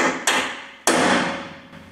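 Two sharp metal hammer strikes with long ringing decay, then a fainter third tap, a small hammer marking an indent in metal during an RV car transporter conversion; close and clear with no talk.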